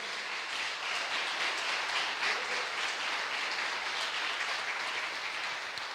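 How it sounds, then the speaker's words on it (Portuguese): Church congregation applauding in praise during a service, a continuous, even roar of many hands clapping that stays loud and sustained throughout with no speech on top. "Se você crê, pode aplaudir e glorificar ao Senhor"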